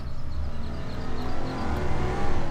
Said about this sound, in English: There goes the car.